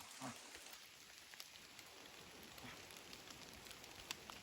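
Rain falls steadily in a wet outdoor setting, a faint, even hiss of drops spread across the whole stretch with a few slightly sharper patters and no talk.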